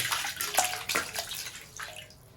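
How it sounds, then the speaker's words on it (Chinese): Water splashes and pours into a cooking pot for blanching pork intestines, a short burst of close, bubbly sloshing that tapers off. "把肥肠焯下水"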